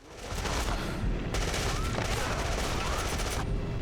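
A submachine gun fires in the video game Afterfall: InSanity, a loud, continuous rattling burst of rapid shots that pauses briefly and then resumes.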